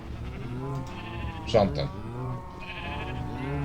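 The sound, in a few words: sheep bleating in Minecraft video game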